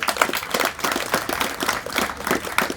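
An audience clapping at a religious discourse in Kharadi, Pune, a brief burst of dense, steady applause from many hands nearby.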